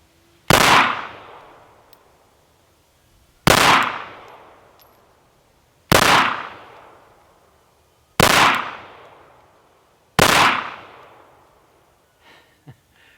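Five loud, sharp Glock 19 9mm pistol shots fired one at a time at an even pace about two seconds apart, each with a short ringing decay, and no talking.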